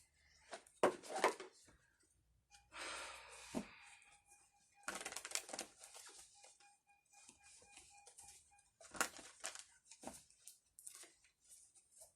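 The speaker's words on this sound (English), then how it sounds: "Let me pull some cards." Tarot cards being pulled and shuffled by hand, with several bursts of riffling and slapping card sounds separated by brief pauses, close and moderately loud in a quiet room.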